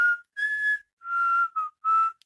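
Outdoor whistling, several clear sustained tonal notes with short gaps between them, alone and fairly loud with no talking.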